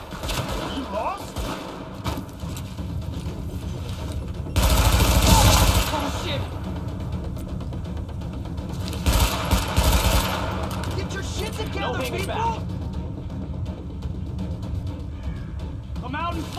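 Gunfire in the game Tom Clancy's The Division: bursts of automatic weapon fire crackle in loud stretches over a constant busy game soundscape, with characters shouting throughout.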